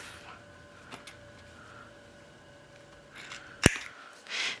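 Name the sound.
scissors trimming fabric cuff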